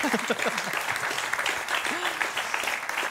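Audience applause at a prevention event in Corsica, clapping under a host's continuing voice with scattered cheers, brief and moderately loud.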